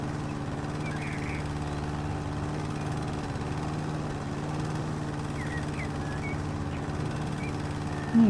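Petrol lawn mower idling and running steadily at a constant pitch in a backyard garden with long grass, a continuous mid-distance engine drone throughout.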